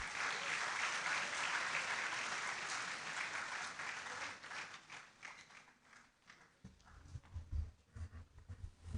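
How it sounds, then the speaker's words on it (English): Dense crowd applause at a university inaugural lecture slowly thins out, dwindling to scattered claps by the end. "With another warm round of applause, I would invite our speaker back up stage"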